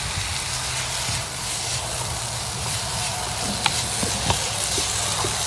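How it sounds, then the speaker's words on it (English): Chilies hitting softened onions in a hot pan set off a steady, close broadband sizzle and crackle, with a few sharp pops near the end and no talking. "Now you can add the chilies in."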